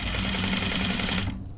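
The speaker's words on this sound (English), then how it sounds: "Sewing at this angle is a little different than what I would do if you weren't here." A sewing machine stitching denim jeans pants runs in a steady, loud, close mechanical whir, then stops abruptly near the end.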